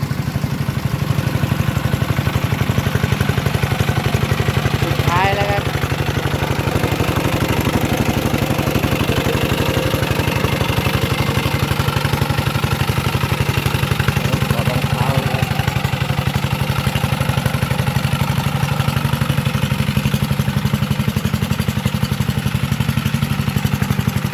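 A 9.5 horsepower walk-behind tractor engine runs close by in a field, a loud continuous chugging clatter that holds steady for the whole stretch.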